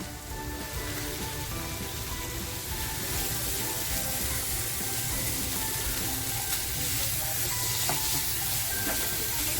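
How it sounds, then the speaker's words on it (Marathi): Spice masala with roasted coconut frying in a pan for a dhaba-style chicken lapeta, giving a steady, close, dense sizzle that continues evenly throughout with no talking. "मस्त असा मसाला छान फ्राय करून घ्यायचा आहे आपल्याला"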